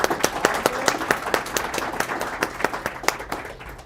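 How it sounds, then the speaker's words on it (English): Moderate, steady applause from a meetup audience thanking the day's speakers, many overlapping claps at even strength that taper slightly toward the end. "I'm going to give another round of applause for everyone."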